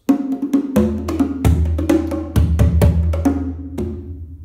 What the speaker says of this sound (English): this is the sound of the congas and the bongos.